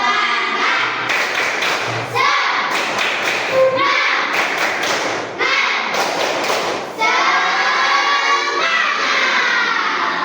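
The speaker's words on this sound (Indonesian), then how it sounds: "Mulai 1, 2, 3. Tepuk semangat." Children at a school lesson perform tepuk semangat spirit clapping, loud close rhythmic patterns of claps and thumps in short bursts with brief pauses, voices chanting along between the clap sequences.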